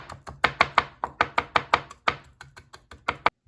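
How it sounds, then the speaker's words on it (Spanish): Garlic cloves crushed and then finely chopped with a knife on a cutting board: a rapid series of about fifteen sharp, close knife strikes in an uneven rhythm, with no talking. "El ajo también cortado bien finamente. Primero lo machaco para que se me haga más fácil triturarlo."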